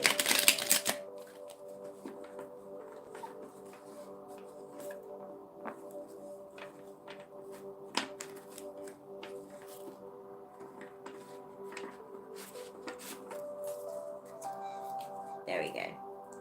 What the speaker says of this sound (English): I'm just going to do a proper shuffle of the cards.